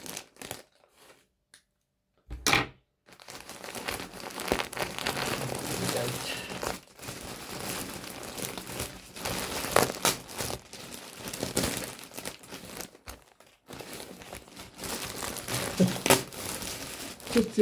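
A crinkly mail packet holding wool is opened, giving sustained crackling and crumpling plastic sounds close by, starting after a quiet moment and continuing in bursts with brief pauses.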